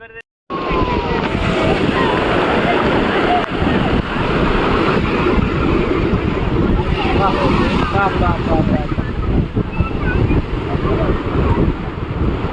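Ocean waves breaking at Rock Beach in Pondicherry, a loud continuous wash of surf mixed with heavy wind buffeting the microphone, steady throughout with no clear pauses.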